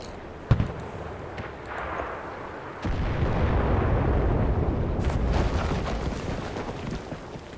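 Grenade explosions in the video game Enlisted: a sharp blast is followed by a heavy, rumbling detonation that rolls on for several seconds, with scattered distant gunfire cracking in the background.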